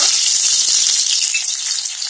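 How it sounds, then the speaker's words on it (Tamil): Crushed ginger and garlic hit hot oil with popped mustard seeds for a potato and capsicum stir-fry, producing a loud, close, crackling sizzle that holds steady throughout. "நம்ம தட்டி வச்சிருக்கிற இந்த இஞ்சி பூண்டையும் அதை போட்டுக்கலாம்."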